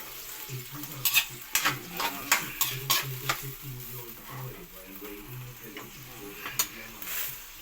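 Cooked mackerel is mashed and stirred in a sizzling pan, giving a run of rhythmic scrapes and taps on the metal over a soft continuous frying hiss.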